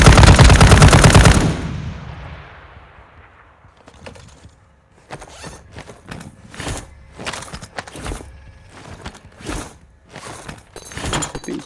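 A heavy gun in Warzone Mobile roars out one long, loud sustained burst, then keeps firing in a rapid series of short, sharp bursts separated by brief gaps.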